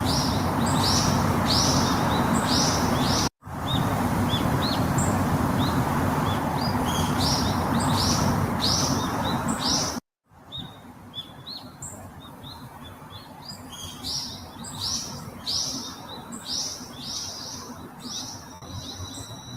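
Birds chirp repeatedly with a faint echo, first over a dense steady background, then more clearly after brief drops to silence.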